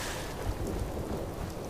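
Rain in the video game Fallout 4, a constant broadband wash with a low rumble underneath, steady and fairly loud throughout, with no talking.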